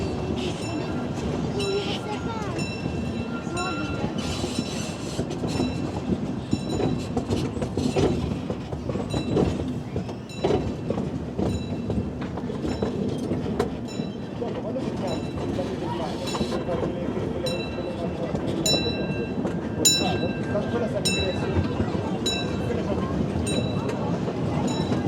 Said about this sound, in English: So it's quite wobbly, this train.